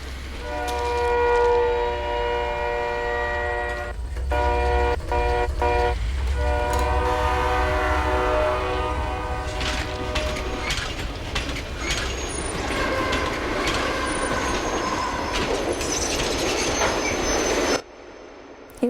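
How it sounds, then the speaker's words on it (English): A train approaches on the tracks, its rumble building steadily with horn-like tonal blasts, wheel squeal and clatter, loud and close, ending in a sudden cut. "a train started coming"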